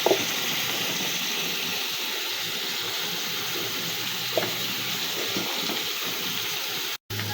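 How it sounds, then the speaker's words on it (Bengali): Dried Bombay duck fish (loitta shutki) fries in a pan with chili powder, giving a steady, close sizzling hiss that holds evenly throughout, broken only by a brief dropout near the end, with no talking. "কিছুক্ষণ ভাজা হোক।"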